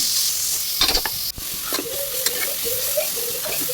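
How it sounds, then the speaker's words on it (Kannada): Sliced onions sprinkled with salt sizzle steadily in a pan, close and fairly loud, broken by a few sharp stirring scrapes. "ಚೆನ್ನಾಗಿ ಬೇಯಿಸ್ಕೊಳ್ಳಿ ಈರುಳ್ಳಿನ"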